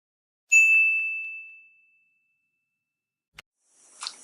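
A bright notification bell rings one clear ding that fades out over about a second, followed later by a short click and a soft rustle.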